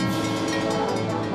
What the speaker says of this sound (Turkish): Hey, tren geliyor.